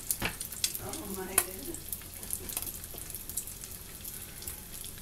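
Pancake batter sizzles and crackles softly on a new comal griddle, with scattered light pops and faint scraping over a quiet kitchen background.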